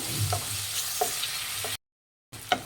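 Onions fry in a pan for tomato masala rice, a soft close sizzle broken by scraping spoon strokes, then a brief silent gap before the stirring resumes.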